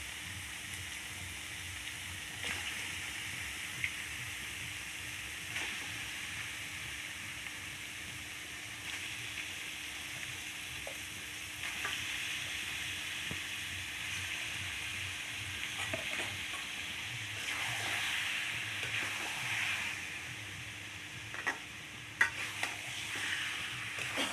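Chicken curry with spices is stir-fried in a pan, a steady close sizzle running throughout with frequent soft scraping stirs and a few sharper utensil clinks, no voices.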